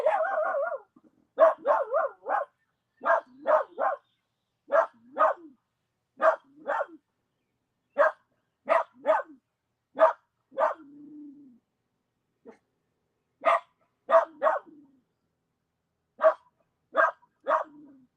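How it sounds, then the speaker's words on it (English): A dog barks over and over, stepping a few feet away and facing outward, with loud close barks in singles and quick pairs spaced by short silences. "Walks 3 feet away and barks out, facing out from me."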